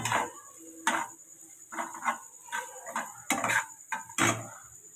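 A spatula scrapes and clinks against a pan while carrots are stirred lightly as they roast, giving a series of close, sharp taps and scrapes in an irregular rhythm.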